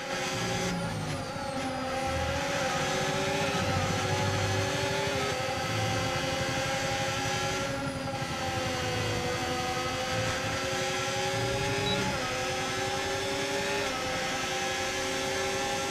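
F1 25 race cars in a video game race scream past with high, revving engines, shifting pitch as they accelerate and change gear, loud and continuous throughout with no talking.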